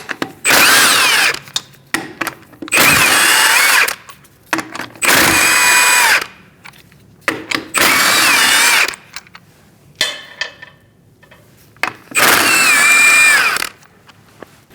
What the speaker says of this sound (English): we're going to remove our lug nuts